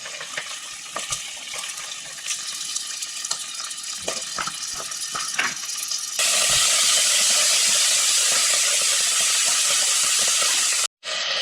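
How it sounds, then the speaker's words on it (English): Sausages frying in extra virgin olive oil in a pan for risotto, an intermittent crackle at first that swells into a loud, dense, continuous sizzling hiss, close and without talk. "And then we fry them a few minutes until they are nice and golden."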